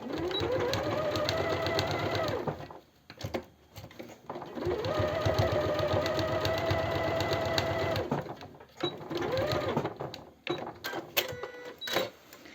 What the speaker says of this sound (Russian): Косую бейку между собой соединила, и теперь этот участок нужно застрочить.